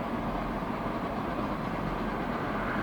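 A freight train hauled by a pair of SD40-2 diesel locomotives rolls past, giving a steady, loud rumble with a constant low engine drone that holds even throughout, without any voices.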